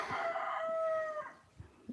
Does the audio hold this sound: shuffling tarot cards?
no